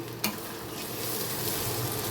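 Rice frying with spices in a pan for a one-pot rice, egg and potato dish; a short, close, continuous sizzle with a brief stir or clatter at the start.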